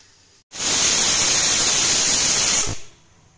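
Steady loud hiss of steam escaping from a covered pot of banana flower boiling in salted turmeric water, starting abruptly, holding for about two seconds, then cutting off.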